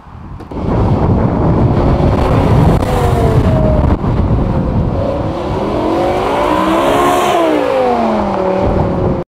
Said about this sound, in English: you'll hear the supercharged whine a little bit